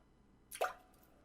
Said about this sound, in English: Drip, drip.